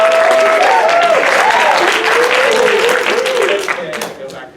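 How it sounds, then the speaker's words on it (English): An audience at an improv show breaks into a steady wash of applause, fairly loud and sustained, with a voice talking and whooping over the clapping before it fades. "Let's give another round of applause."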